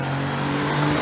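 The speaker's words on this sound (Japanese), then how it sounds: "ちょっとアクセルを踏んだり戻したりしてますね。" A rally car on a stage accelerates and then eases off the throttle, a brief rising engine drone at a distance with no talk.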